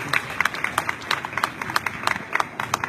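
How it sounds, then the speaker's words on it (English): Scattered clapping from a small audience at a vigil for lives lost, a thin round of applause for law enforcement with distinct separate hand claps, moderately near, with no talk over it. "So let's please give the law enforcement community a round of applause."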